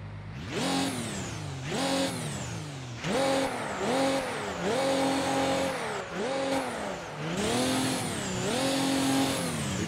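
A race car engine in the racing sim Assetto Corsa revs hard and climbs through rapid gear shifts, each rise in pitch cut by a brief drop, loud and close, with no talking.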